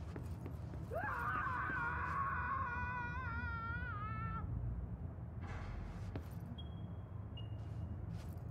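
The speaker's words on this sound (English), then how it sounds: "Okay, why is somebody screaming?" Inside the video game Control, a wavering, drawn-out scream rises and holds for several seconds, fairly distant and eerie, followed by faint clatter and a thin tone.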